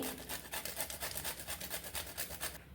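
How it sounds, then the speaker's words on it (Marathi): Whole nutmeg rubbed against a hand grater, quick rhythmic rasping strokes about five per second, close and fairly quiet, with no talking. "आता जायफळ आहे ना हे आपल्याला भाजून नाही घ्यायचे, त्याचा सुगंध हा निघून जाईल, म्हणून इथे ना मी खिसणीने खिसून घेते"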